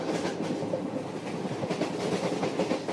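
A train rocks along the rails with a steady, dense rumble and faint rhythmic clatter, continuous and fairly loud throughout, with no voices.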